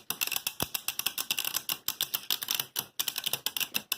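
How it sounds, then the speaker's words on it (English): Spinning battle tops scraping and clattering against each other in a stadium, producing a fast, dense stream of sharp ticking impacts, close and moderately quiet, with no talking. "I hear a lot of scraping."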